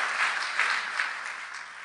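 A church congregation gives a loud, sustained round of applause to God during a sermon. The many hands blend into a thick, continuous wash of clapping that holds steady for about two seconds.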